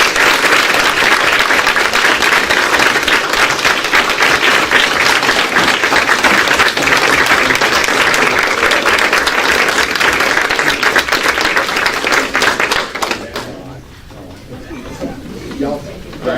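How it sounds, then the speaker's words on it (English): Sustained, loud audience applause for an award-winning team at a county board of education meeting, dense clapping filling the room before fading out near the end. "Ladies and gentlemen, please give this group another big round of applause."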